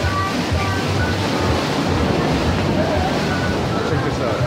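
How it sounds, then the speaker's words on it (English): Rough ocean surf crashes and roars continuously along a rainy shoreline in the Philippines, loud and close with wind buffeting the microphone throughout. "the waves here are pretty crazy"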